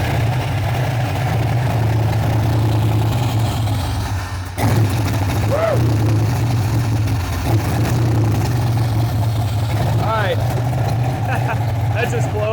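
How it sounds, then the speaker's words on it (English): A Chevrolet Caprice starting cold in a shop, then settling into a steady, loud low idle with a deep exhaust rumble that continues throughout, with a brief dip partway through. "we're gonna be doing a cold start on the Caprice in the shop"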